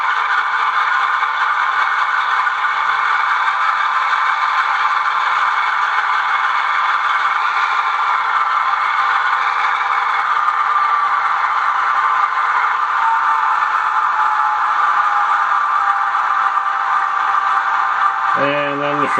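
An ESU LokSound B23-7 diesel locomotive sound file throttling up in drive hold as if for an air test: a loud, steady engine drone that swells slightly mid-way, with a brief sharp tone near the end.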